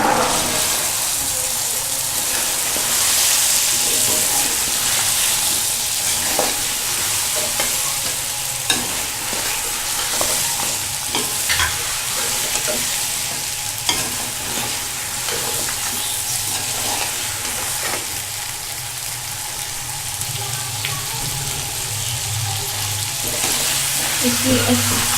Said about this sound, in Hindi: अब हम इसमें सब्ज़ी डाल देंगे।